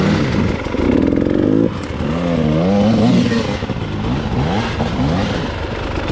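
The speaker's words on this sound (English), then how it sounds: "There was a good little clip there of Lance just giving her to get over that last root" Enduro dirt bike revving hard over a tree root on a trail, the engine loud and close, rising and falling in pitch with strained surges and some rattling.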